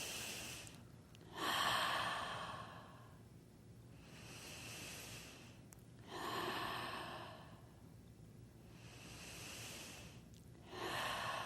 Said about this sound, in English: do the same breathing